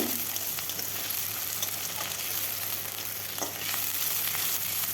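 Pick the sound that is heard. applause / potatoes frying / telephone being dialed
potatoes frying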